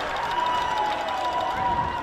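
A high-school student section cheers at an Eagan versus Lakeville South football game, a continuous distant crowd roar with a faint sustained tonal element running through it.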